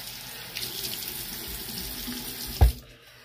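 Water runs steadily from a tap into a sink during face washing, a close continuous splashing stream ending in a sharp thump as the flow is cut off, with no talking.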